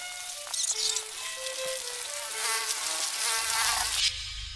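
Flies and other insects buzz in a dense, whining swarm, several high droning tones overlapping close by, with a lower rumble entering near the end.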